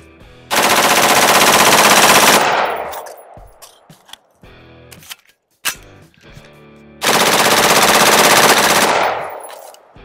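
AR-15 rifle with a nitride-treated barrel firing full auto, two long loud bursts of rapid gunfire separated by a pause with a short single shot and faint handling noise.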